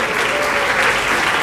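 An audience at a New Year program applauds, a loud, dense and even wash of clapping throughout the brief moment.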